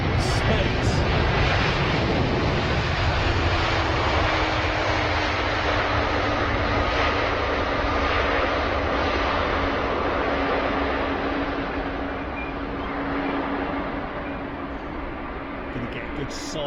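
A McDonnell Douglas MD-11 airliner at London Heathrow Airport roars with loud, steady broadband jet-engine noise throughout, fading slightly toward the end, with a person talking over it.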